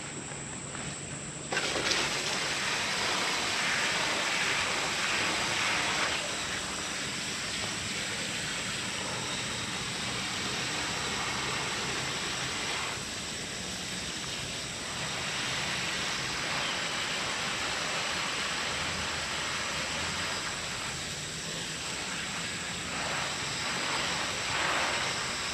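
Water pours steadily over newly planted Mahogany Monster heucheras in a suburban garden bed, a continuous close hiss and splash with no talk.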